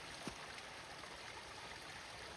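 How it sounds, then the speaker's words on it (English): Steady broadband rush of running creek water, constant and fairly close, with no voices. "Hear the creek run right there."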